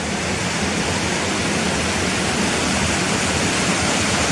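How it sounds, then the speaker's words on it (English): Water pours down the Careyburn waterfall by a bridge, a loud, close, unbroken roar of rushing water, steady throughout with no voices. "Lovely place here just to sit down and watch this lovely water coming down the waterfall."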